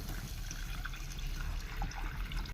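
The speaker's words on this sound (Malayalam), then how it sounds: "അതിനകത്തേക്ക് നമുക്ക് വെള്ളം ഒഴിച്ചു കൊടുക്കാം കേട്ടോ, ആവശ്യത്തിനുള്ള." Water is poured into a sardine curry pan with browned turmeric, giving a soft, continuous splashing wash for a couple of seconds, fairly quiet and with no talking.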